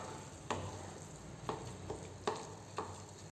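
A ladle mashing bread pieces in a pan while making bread halwa, with a faint frying hiss underneath and a few distinct soft knocks spaced about a second apart.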